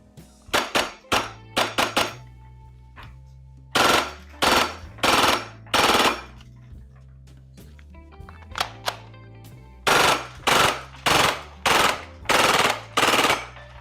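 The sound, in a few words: Maruyama MP9 gas blowback airsoft gun firing full auto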